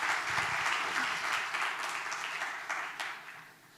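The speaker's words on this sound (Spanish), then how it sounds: "Recibamos con un aplauso a Sebastián" Audience applause welcoming a journalist speaker at a rainwater harvesting conference, a steady wash of clapping that gradually thins and fades over a few seconds.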